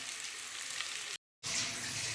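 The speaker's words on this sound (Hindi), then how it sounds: "अभी इसी में ही हम लोग तड़का तैयार कर रहे हैं" Tadka fries in an aluminium pan for aloo gobi, a steady close sizzle with one brief silent gap before the crackling resumes, no voices.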